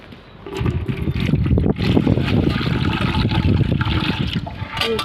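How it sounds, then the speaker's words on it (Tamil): Water pours steadily into a fish tank, a continuous splashing trickle that stays fairly loud and close for several seconds. "இவ்வளோ தண்ணி ஊற்றியாச்சா"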